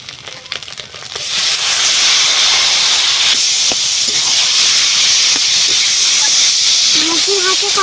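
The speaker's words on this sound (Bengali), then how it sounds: "সব কিছু খুব সুন্দরভাবে হয়ে গেছে ভাজা এবারে দিয়ে দেবো সেদ্ধ করে রাখা লাউ" Boiled bottle gourd dropped into a hot pan with fried country chicken eggs in a village kitchen, bursting into a loud, steady hiss of sizzling steam that holds from the second second to the end.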